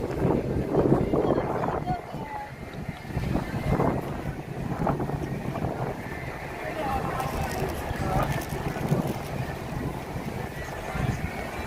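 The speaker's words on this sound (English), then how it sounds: "It's breezy here at Hollywood." Wind gusts outdoors at Disney's Hollywood Studios, buffeting the microphone with a steady low rumble while a person talks throughout.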